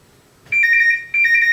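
A telephone rings in two electronic trilling bursts, close and clear, with a short gap between them and no voices; the call comes from an Advent Controls A3.02 alarm dialer.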